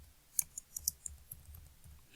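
Light, quiet keystrokes on a computer keyboard as a command is typed, a dozen or so irregular clicks spread over two seconds with no talking.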